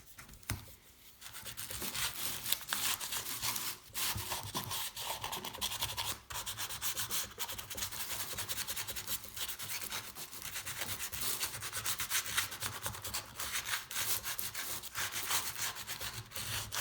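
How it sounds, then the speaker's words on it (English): Sandpaper scrubs steadily against a crusty piston from a 1984 Honda C70 Cub, a continuous close, gritty rasp with brief pauses between strokes. "going to finish off this sandpaper. The sandpaper will be dead at the end of this job."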